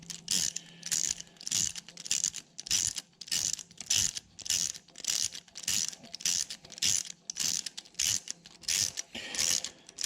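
A ratchet tightens a cylinder head bolt on a 2012 Hemi 1500 long block build, its close, loud clicking strokes repeating in an even rhythm with short gaps between pulls.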